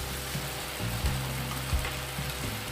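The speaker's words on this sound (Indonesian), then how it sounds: "Tumis beberapa saat lagi." Lemongrass, bay leaves and galangal sautéing in a pan, a steady close sizzle with soft stirring scrapes underneath.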